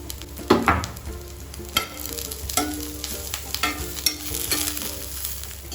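Radish pieces frying with turmeric, crackling and hissing steadily while a spoon scrapes and taps the pan at irregular intervals, close-up, with no speech.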